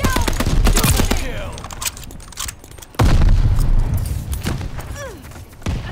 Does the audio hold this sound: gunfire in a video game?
yes